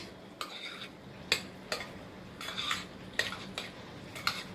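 Potato salad with chopped egg and dressing is tossed in a bowl, with a series of irregular soft clinks and scrapes of a utensil against the bowl over a quiet background.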